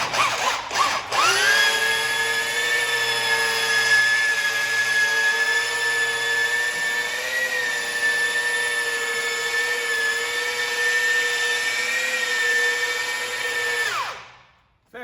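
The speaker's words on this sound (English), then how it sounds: "this is more of a slow polisher with just a wool wheel on it" A slow polisher fitted with a wool wheel buffs the body panels of a Versatile 895 tractor, giving a steady, close, high-pitched motor whine for about thirteen seconds before it spins down to silence.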